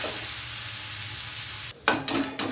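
Vegetables, including capsicum, fry in a pan for pasta with a steady, quiet hiss, followed near the end by a few sharp stirring scrapes.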